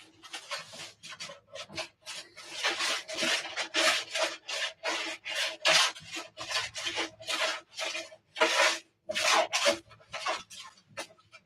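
Wax is rubbed onto a snowboard in quick repeated strokes, a dry rasping scrub that rises and falls in a steady rhythm, close and fairly loud with brief pauses.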